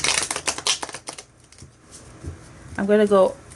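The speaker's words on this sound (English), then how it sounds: "I shouldn't have shuffled" Playing cards shuffled by hand, a quick run of riffling flutters up close, followed by a short voiced sound after a pause.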